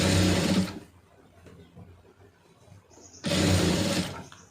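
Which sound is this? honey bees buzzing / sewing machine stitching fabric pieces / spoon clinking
sewing machine stitching fabric pieces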